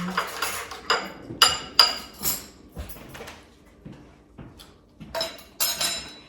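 A metal spoon clinks and scrapes against a bowl while mofongo is mixed, a run of sharp irregular taps and clatters in bursts with pauses between, close and fairly loud.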